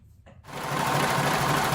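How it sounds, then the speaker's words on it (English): A serger sewing machine hemming a knit dress starts after a brief pause, then runs in a loud, fast, continuous mechanical chatter up close. "this serging machine cuts out so many steps on so many projects"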